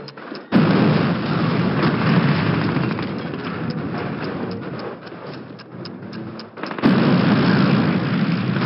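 Planted bombs detonate at a V-2 rocket site in Call of Duty, a sudden loud blast followed by a sustained roaring rumble and crackling debris, then a second heavy explosion near the end.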